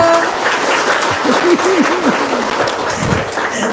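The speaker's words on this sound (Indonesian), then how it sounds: "Tepuk tangan dulu." Loud, dense applause from an audience at an Indonesian seminar fills the whole stretch, with a voice briefly audible through the clapping.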